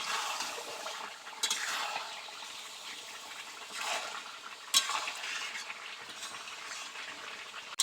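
Country chicken curry being stirred and sautéed in a pan, a soft continuous sizzle with periodic scraping sweeps of the spoon and an occasional light clink, no talking.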